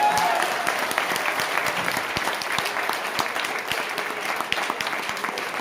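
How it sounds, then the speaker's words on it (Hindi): An audience at a motivational seminar on direct selling bursts into applause, a dense, lively clatter of many hands clapping at close range that holds steady for several seconds before easing slightly toward the end. "तो ताली बजा दो एक बार दम लगा के।"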